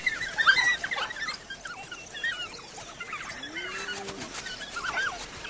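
African wild dogs give high, bird-like chirping and twittering calls while coordinating a hunt, a busy chorus of short squeaky notes over a steady background rush.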